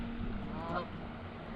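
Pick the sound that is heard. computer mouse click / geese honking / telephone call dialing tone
geese honking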